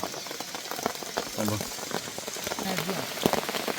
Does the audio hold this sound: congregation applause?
no